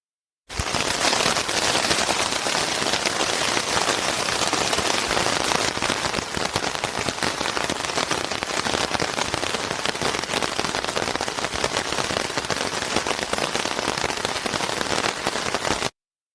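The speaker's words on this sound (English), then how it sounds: "you may hear every so often some drops of rain" Rain falling on a tent during an overnight camp on a hiking trail, a dense, loud, continuous patter of drops striking the fabric close by, steady from start to finish with no voices.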